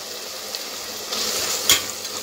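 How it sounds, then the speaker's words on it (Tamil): Crushed garlic drops into tomatoes frying in a pot, setting off a steady close hiss of sizzling, with one sharp brief crackle flaring partway through and no voices. "இப்போ இந்த ஸ்டேஜில் நம்ம இடித்த பூண்டை சேர்த்துக்கலாம்"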